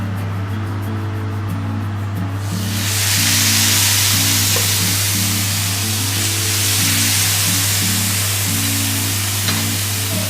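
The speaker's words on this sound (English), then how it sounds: "Now let's get our steak seared." A sirloin steak lands in a warm, oiled skillet and a loud, steady sizzle erupts after a quiet couple of seconds, holding strong over a low background hum.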